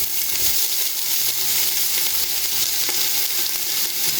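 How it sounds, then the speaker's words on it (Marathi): Chopped onions sautéing in hot oil over a high flame, a loud, continuous close-up sizzle with a steady hiss and light crackle throughout, no talking. "आता ऑनियन्स घालून न्ही एका बरें सोते करून घेता ऑन हाय फ्लेम"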